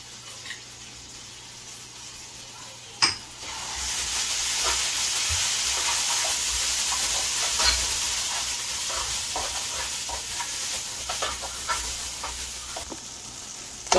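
Masala with garlic and tomato paste fries in a karahi for a Guyanese curry. After a sharp knock, a loud, continuous hissing sizzle swells up and holds, with small stirring taps and no talking.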